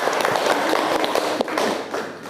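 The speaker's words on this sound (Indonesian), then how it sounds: "Oke, luar biasa, tepuk tangan." Classroom of young students clapping hands together in an Indonesian lesson, dense and close, a loud steady patter of mixed claps for about two seconds with some thumps.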